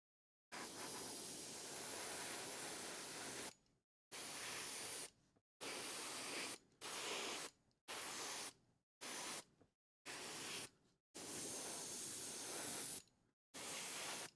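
Spray paint can hissing out in a series of bursts, some long and some short, separated by abrupt silent gaps, close and steady during each press, with no voices.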